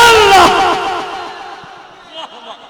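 A crowd at a religious sermon shouting a slogan in unison, a loud massed cry that quickly fades into echoing reverberation, with a few faint voices afterward.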